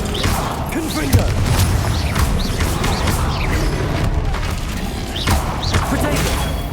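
Fire spell blasts in Hogwarts Legacy go off in a busy game battle, booming and crackling with splintering bursts, heard over music and other effects alongside voices.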